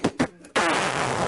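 A voice imitates a wet, sputtering fart: two short vocal bursts, then a loud sustained raspy blow held for most of the clip, close and alone.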